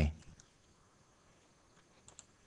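A single soft mouse click on a Next button during a SQL Express database setup on a computer, faint and brief at the start and followed by quiet room tone.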